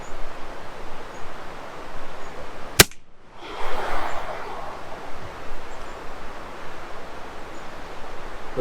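A single sharp report from a Gamo Swarm nitro piston air rifle fired outdoors in the Rocky Mountains, a crisp crack followed by a brief hiss and rustle over steady wind noise.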